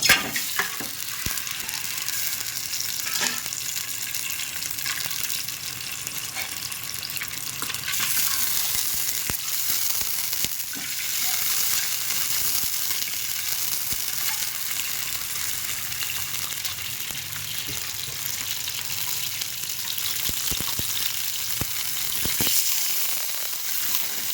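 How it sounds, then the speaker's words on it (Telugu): Eggs frying in a shallow layer of oil in a pan, a steady close sizzle and crackle running continuously with occasional scrape and stir clicks, no voices. "ఈ ఎగ్స్ ఉన్నాయి కదా వీటిని అన్నిటినీ కొద్దిగా ఫ్రై చేసుకోవాలి"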